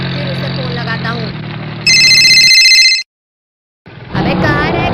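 A phone ring tone chimes briefly, loud and close, after stretches of voices talking, then cuts out into a short silence before the talking resumes.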